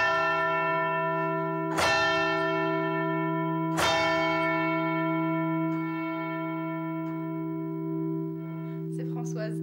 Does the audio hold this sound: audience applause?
no